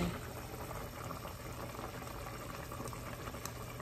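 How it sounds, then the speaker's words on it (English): Spiced carrot soup simmers in a pot with a steady, soft bubbling and occasional pops, quiet and close with no talk. "This has been 40 minutes here boiling together."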